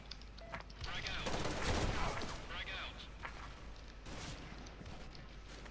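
Heavy gunfire from a powerful weapon in an online shooter game, a dense, sustained volley of shots that peaks midway and carries on steadily, loud and close throughout.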